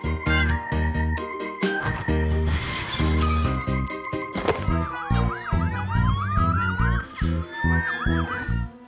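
A police siren wails in rising and falling sweeps over loud, dense music, prominent and close.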